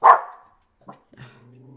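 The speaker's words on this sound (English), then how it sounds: "As soon as I say the word bad, he starts barking." A dog gives one loud, close bark, then a fainter short woof and a trailing low grumble, with no talk over it.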